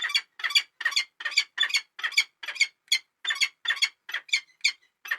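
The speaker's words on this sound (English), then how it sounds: "Really short, quippy, high-pitched sounds." A peregrine falcon repeats short, harsh, high-pitched calls in a fast, steady series of about sixteen notes, loud and close against a silent background.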